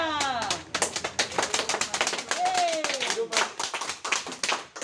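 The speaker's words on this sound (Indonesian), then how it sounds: "Oke, tepukan untuk kita semua." Audience clapping at a school anti-smoking outreach session, a dense burst of many hands right after a presentation, with a voice speaking over the applause.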